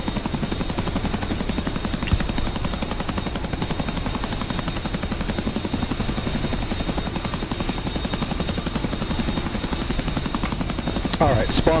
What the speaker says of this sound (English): spawning a hind at Fort London